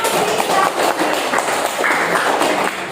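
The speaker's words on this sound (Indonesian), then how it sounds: "Ayo berikan tepuk tangan dulu" Students in a classroom give a round of applause, a dense, steady patter of many hands clapping together at moderate loudness for a few seconds.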